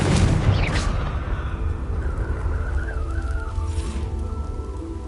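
Confringo, an explosive spell cast in Hogwarts Legacy, goes off as a loud boom with a whistling, rising streak. A deep rumble follows and lingers under a faint wavering whine as the blast fades.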